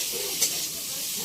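Ground cumin frying in oil, a soft continuous hiss and sizzle with one brief brighter crackle near the start, quiet and steady, with no voices.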